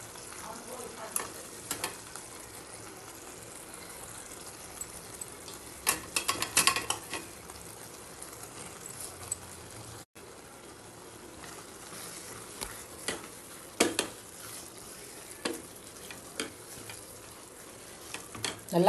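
Dried chennakuni prawns fry in a pan for thokku, a steady soft sizzle with repeated scraping and clattering stirs of a utensil against the pan.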